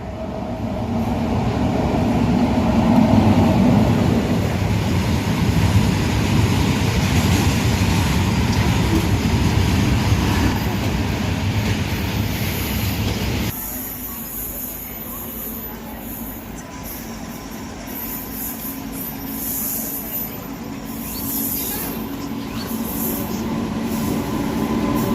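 The Sealdah–Agartala Kanchanjunga Express rolls along as a steady, loud rumble heard from inside the train, with rail clatter and a high squeal that shifts partway through to a quieter, thinner cabin roar.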